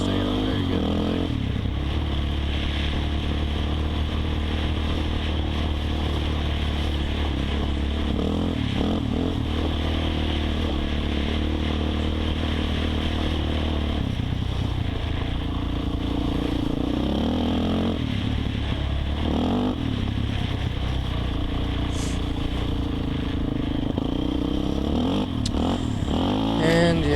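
Suzuki LTZ 400 quad bike engine droning and revving steadily over a bumpy trail with rollers, with rattling and clattering from the rough ground and someone talking over it throughout.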